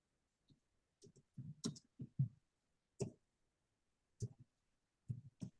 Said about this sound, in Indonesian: Oke, kita mengetik lagi.